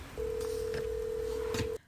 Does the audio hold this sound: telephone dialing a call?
yes